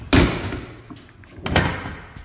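The rear door panels of a Ford Transit 350 van are pushed shut, giving two solid, close thuds about a second and a half apart, the first louder, with faint rattles in between.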